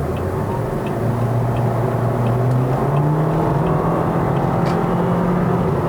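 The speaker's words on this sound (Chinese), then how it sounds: "你把油门降下去了，踩下去了，它就是那种转速一拉高的时候啊，那个动力就来了。" A 2017 Toyota Vios Sports Edition with a CVT drones steadily as it accelerates, engine note rising and holding over road and cabin noise, heard from inside the car with no talking.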